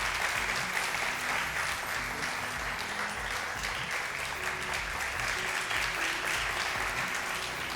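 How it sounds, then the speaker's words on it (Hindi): A studio audience at a televised Ramadan quiz show applauds in a steady, sustained wash of clapping, fairly faint and continuous, with a faint hum beneath. "तालियां ज़्यादा होनी चाहिए,"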